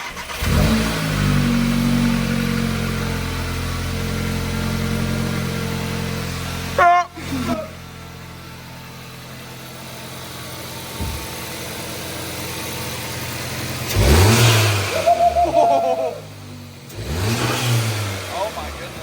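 An Audi S3 fitted with an Integrated Engineering intake, its engine idling and revving in bursts, loud and close, with a sharp break partway through and hard revs near the end, while people talk over it.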